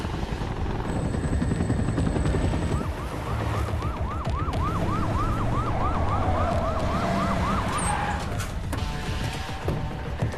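An ambulance siren wails in a rising and falling pattern through the middle of the scene, partly masked by a loud, steady helicopter rotor and engine roar that carries on throughout.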